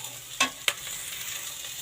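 A utensil stirs ridge gourd palya in a pan, giving two brief scraping clatters against a faint background hiss, close and soft with no voices.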